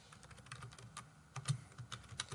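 Keys on a computer keyboard tapped in quick, uneven bursts, close and fairly quiet, with short pauses between clusters of clicks.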